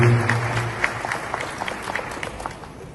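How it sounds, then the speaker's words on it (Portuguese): Audience applause greets a speaker at an agricultural seminar, a steady wash of clapping held at an even level throughout, with a brief low hum of a voice at the very start. "Fuerte el aplauso a Cid Simoes"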